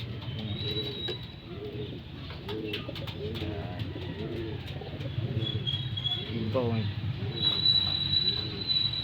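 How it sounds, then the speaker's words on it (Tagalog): Pigeons land and coo steadily with soft wing flutters nearby. Faint background hum and a few high chirps run throughout. "Yan, nagbabaan na yung mga ibon natin."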